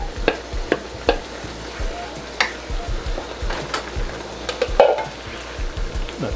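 Beef teriyaki and vegetables stir-fry in a hot pan, a steady sizzle broken by repeated scraping and clacking of a utensil stirring the food, close and fairly loud, no voices.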